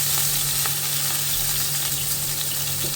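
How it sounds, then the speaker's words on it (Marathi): Stuffed bitter gourds (karela) cooking in a covered pan over medium heat, giving a constant close, even sizzle with a few faint crackles and no talking. "झाकणी लावून 2 ते 3 मिनटं मीडियम गॅसवर शिजू द्या."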